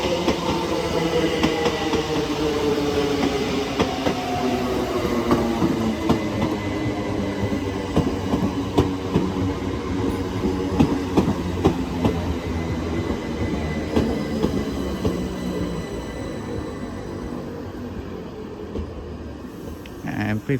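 A C2C Class 357 electric multiple unit rolls into Barking station on the London, Tilbury and Southend line, a steady, loud rumble of wheels and motors with rail clicks and a rising hum, platform voices faintly underneath throughout.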